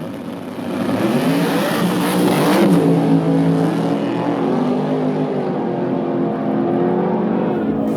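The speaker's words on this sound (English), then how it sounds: "In the finals, it was another classic Chevy versus Ford battle." Chevy and Ford race cars in an import vs domestic drag race final roar loudly, engines revving up in a rising sweep and sustaining a powerful, steady drone as they run.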